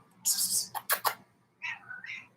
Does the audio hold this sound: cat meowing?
yes